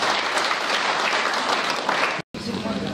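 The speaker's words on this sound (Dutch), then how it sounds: "En voor die twee heren wil ik graag een heel groot applaus als bedankje." Audience applause at a Start racing team presentation, dense and loud clapping from a crowd that cuts off abruptly near the end before resuming more faintly with a voice over it.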